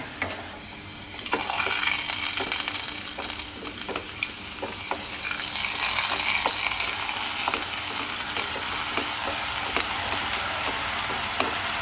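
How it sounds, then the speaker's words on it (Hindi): Steady loud sizzling and bubbling of besan sev dough dropping into hot oil in a kadhai, continuous frying hiss with small crackles throughout, no speech. "तो ये देखिए आप, हमारी सेवें गिर रही है कढ़ाई के अंदर।"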